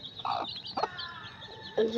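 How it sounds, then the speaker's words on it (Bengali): Soft clucks from four-day-old native chicks come in three short bursts over quiet background, close and fairly faint. "দেখুন এটা কিন্তু মুরগির বাচ্চা"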